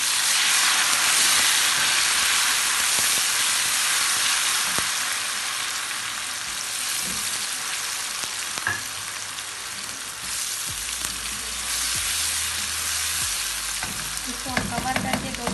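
Tomatoes and green chillies frying in a pan with browned chana daal, a steady close sizzle and hiss throughout with occasional stirring scrapes and clinks.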